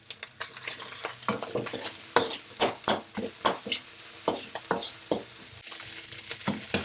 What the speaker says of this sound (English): you know your fried rice is just ready when you sort of see the rice moving around or dancing around or rice crackle and pop